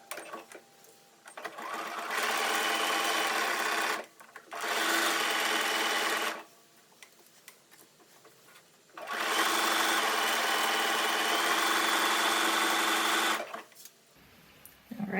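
Sewing machine zigzag stitching down lace for lingerie, heard in three close bursts of steady, rapid mechanical whirring separated by short pauses, with no talk over the stitching.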